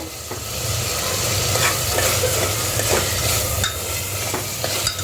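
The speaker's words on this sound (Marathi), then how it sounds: "तर आता मी बटाटे टाकते हे जे मी कट करून घेतलेले आधी आणि ते आपण असं मिक्स करू" Cut potatoes tossed into a hot pan and stirred, producing a loud continuous sizzle with repeated scraping and clattering of the spoon against the pan.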